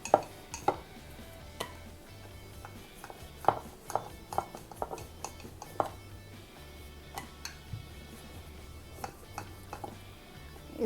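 Spinach poori dough being rolled out on an oiled wooden board, with soft scattered knocks and clicks of the rolling pin and utensils at close range, quiet and irregular.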